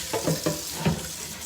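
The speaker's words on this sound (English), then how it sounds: "I'm just taking some hot water and a regular sponge." Hot water running onto a cast iron pan while a regular sponge scrubs it, giving a few short wet swishes and scrapes close up, fairly quiet, with no speech.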